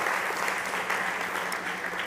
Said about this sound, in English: big applause for Monica